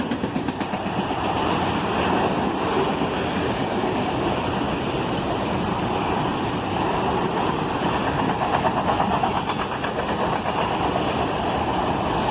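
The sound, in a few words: CSX freight train passing with BNSF Automax auto rack car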